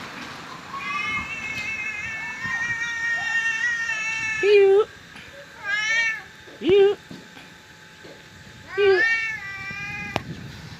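A cat meows repeatedly in several separate, drawn-out, tonal cries, close and loud, with a person's voice heard between the calls.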